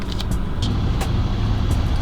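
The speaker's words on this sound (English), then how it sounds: "We'll give it a rev so you can see it, how the numbers go when they rev up and down" Engine of a 2019 BMW X5 40 revving, a low steady motor rumble with light rises in pitch, close and moderately loud, no talk.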